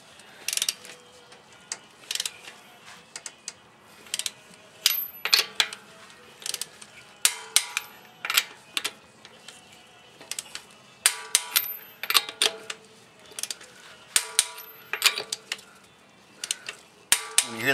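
A torque wrench set to 80 foot-pounds on the wheel lugs of an Acura TL with Brembo front brakes gives repeated sharp metallic ratcheting clicks in uneven clusters, close and clear, with no talk over them.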